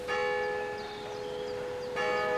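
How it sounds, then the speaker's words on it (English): A church bell rings with long ringing overtones, a second stroke sounding near the end, with no voices. "The bell tolls."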